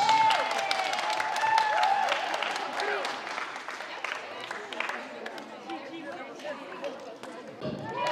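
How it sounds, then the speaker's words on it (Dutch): Applause from a crowd at a sports award ceremony in a sports hall after a Christmas tournament, sustained clapping with chatter and voices throughout and a brief tone near the start. "Dream Team, een groot applaus voor Dream Team."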